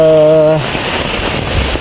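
Heavy rain in a village of simple stilt houses, a steady loud hiss of downpour close by, briefly preceded by a tonal hum.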